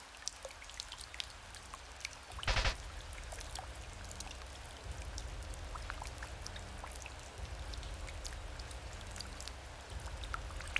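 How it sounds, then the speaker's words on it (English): Rain patters on an umbrella in the video game Omori, a soft continuous wash of drops with scattered sharper taps and one brief louder splash. "You remembered the sound of falling rain as it hit your umbrella."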